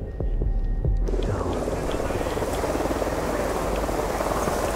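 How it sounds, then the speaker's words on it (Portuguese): A helicopter in the video game Ghost Recon Wildlands gives a throbbing, droning rotor hum that swells in after a second and continues steadily amid game sounds, with no talking. "Era o helicóptero."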